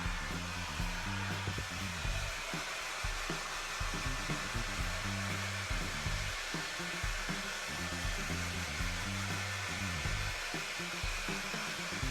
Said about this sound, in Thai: เป่าผมไม่แห้งแล้วมาดูกันค่ะ